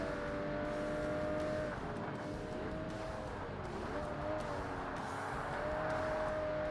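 A Porsche roadster in the Forza Motorsport racing game drives with a continuous engine whine whose pitch rises and falls through gear changes and cornering, with occasional tire noise, steady and fairly quiet, with no speech.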